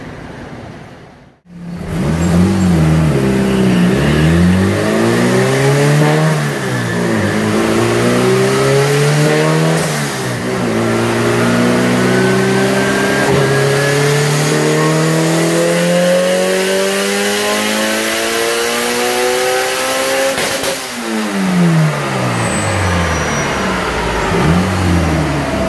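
A B16-swapped 1989 Honda Civic engine on a dyno, loud and close, revs in repeated sweeping pulls with rising and falling pitch, climbing steadily through a long sustained run before dropping briefly and pulling again.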